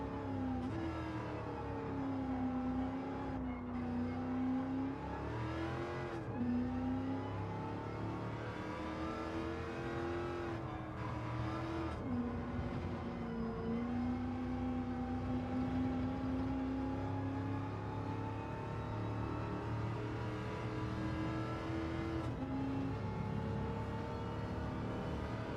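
An old Dodge car racing in Gran Turismo 7, its engine droning steadily and loudly with repeated rises and falls in pitch as it shifts and revs, continuous throughout with no talk.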